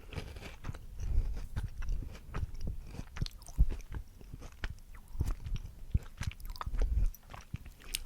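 Chocolate-coated biscuit sticks being bitten and chewed close to a microphone, giving a steady run of crisp crunches and snaps with softer mastication between them and no speech.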